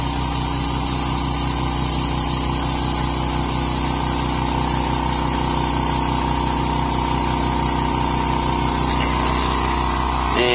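A California Air Tools 2010A 1.0 HP ultra-quiet oil-free air compressor runs continuously at close range, a steady motor hum with a pulsing pump rhythm and an even hiss that never lets up.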